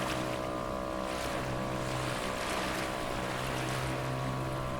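A motorboat towing a wakeboarder across the waves, a steady droning engine hum under splashing water and wind, continuous and fairly close.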